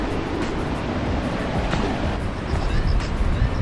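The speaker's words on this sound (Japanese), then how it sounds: "そして波の音がすげえ。" Ocean waves break and wash against the rocky shore of a summer island, with the sea on both sides. The surf is a steady, loud roar with surges, and wind buffets the microphone throughout.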